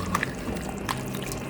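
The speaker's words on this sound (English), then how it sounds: "add some water to make the sauce to go with the meal" Water poured into a pot of St. Lucian stewed beef made with burnt sugar, a faint, brief trickle and splash over a low background hiss.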